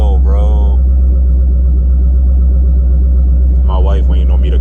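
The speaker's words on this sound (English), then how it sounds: "I'm gonna wait to see how it idles, man. It idles so well" Car engine idling steadily at a Louisiana car meet, a loud continuous low rumble throughout, with people talking briefly over it at the start and again near the end.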